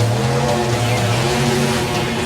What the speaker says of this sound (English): there's our burnout